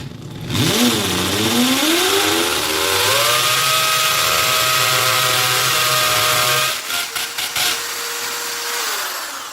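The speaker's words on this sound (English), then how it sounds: "I'll start with a smaller masonry drill bit and then move up to a large one" A power drill with a 5mm masonry bit bores into a wall to mount an industrial fan, its motor spinning up and whining steadily for several seconds before winding down, followed by a few short knocks.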